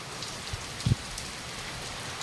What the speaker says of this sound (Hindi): गाई देखो सकाल वर्षा